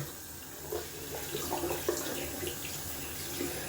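Tap water runs steadily into a sink while a wet-shaving razor is rinsed, a continuous close splash with small irregular surges as the blade passes through the stream.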